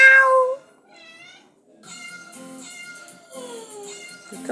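A cat meows repeatedly, one loud cry at the start followed by softer, drawn-out meows, close by with no talking.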